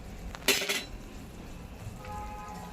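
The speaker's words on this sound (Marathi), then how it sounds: "आता ह्याच्यात आपण हे मी जायफळ घेतले कारण गुळ आहे ना त्याच्यात गुळासाठी ते मी आणि वेलची घेतली ते मिक्स करून घेऊया एक चमचा" A spoon clinks once against a pan and scrapes as nutmeg and cardamom are stirred into jaggery for sesame laddoos, then faint quiet stirring follows.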